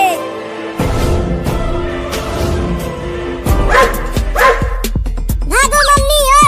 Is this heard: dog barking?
yes